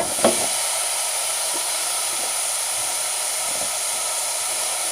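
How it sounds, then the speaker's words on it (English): Ground beef sizzling in a pan while cooking for chili, a continuous loud hiss with a brief clatter at the start and faint scraping taps throughout, close up and without speech. "This next step, I'll be cooking the ground beef."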